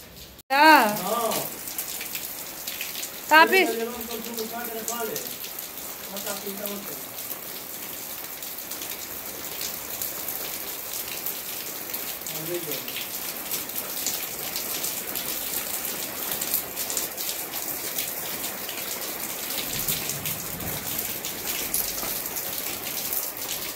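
Monsoon rain pours down in a steady, loud wash of hiss that runs the whole time, with a few brief voiced sounds rising over it near the start.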